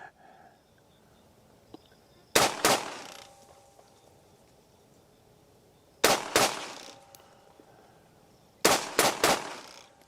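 Gunshots from a firearm fired at a target outdoors, three separate bursts of two or three sharp loud cracks each, spaced a few seconds apart, with faint background noise between.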